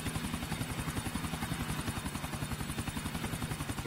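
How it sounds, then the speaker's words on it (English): Helicopter in the video game GTA IV, a steady rapid rotor chop with a whining engine hum, moderately loud and continuous with no talk over it. "I'm okay at flying helicopters."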